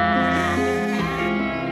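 Shaggy sheep from a long-kept farm flock in Devon, southwest England, bleating in late spring; one drawn-out, wavering bleat up close, with other voices of the flock blending behind it.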